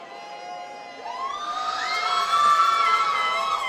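Family and coworkers cheering at an awards ceremony, a crowd of whoops and high shouts that swells louder after the first second and holds, with no speech.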